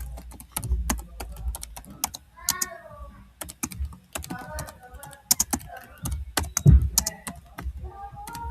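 Rapid, crisp typing on a computer keyboard, entering poll options. Dense clusters of close keystrokes are broken by short pauses, with a couple of soft thumps and faint background sounds between bursts.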